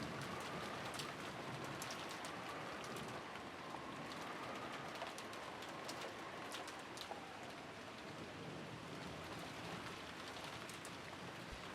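Steady rainfall in the visual novel Umineko When They Cry, soaking a rose garden on a rainy evening, a continuous dense hiss with scattered sharper drops throughout, no voices.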